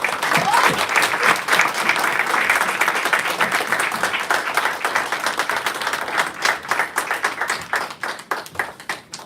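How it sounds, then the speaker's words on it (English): Applause from the audience at a policy panel discussion, starting as a dense, loud wash of clapping that thins over several seconds into individual, sharper claps before fading out. "A round of applause for Vincy."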